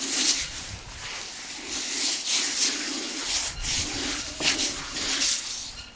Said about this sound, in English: let's give this lamb a generous rub down with salt,